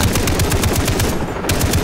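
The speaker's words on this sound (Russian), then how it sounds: "Так, пулемет, пулемет, пулемет. Хочу пулемет." Machine gun firing in the video game Far Cry 3, a loud continuous burst of rapid shots with a brief dip in the middle before the fire resumes.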